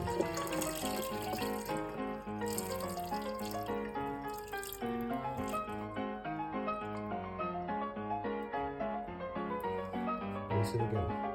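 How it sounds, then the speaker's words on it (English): Tap water runs into a sink to rinse rice, a continuous splashing flow beneath prominent background music. "Drain the water and drain the water"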